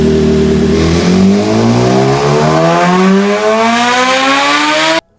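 A last-generation BMW S1000RR superbike engine revs hard and climbs steadily in pitch through the gears, loud and close, then cuts off abruptly.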